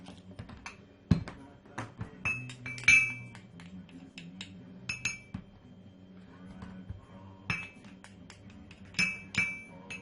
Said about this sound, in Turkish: Şimdi bunları hemen bir kapta karıştırıyorum